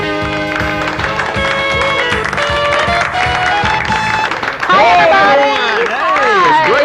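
A studio audience claps and cheers loudly and steadily through the whole stretch, with music playing along and a voice singing or calling out over the applause near the end.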